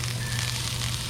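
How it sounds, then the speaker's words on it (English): Half a stick of butter sizzles steadily in a hot pan for a steak stir fry. A loud, continuous crackling hiss fills the short moment. "You see how sizzling that pan is?"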